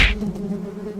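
Wasps buzzing around a nest, a steady close hum with a sharp tapping onset, lasting about a second.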